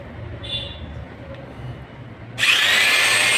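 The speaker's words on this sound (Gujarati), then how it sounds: "હવે આપણે ત્રણ કાણા પાડવાના છે ઉપર બે પાડવાના છે અને નીચે એક પાડવાનું છે" A power drill bores holes for mounting a movable LED TV stand. It bursts in suddenly and loudly, then whines steadily after a quiet stretch with faint background noise.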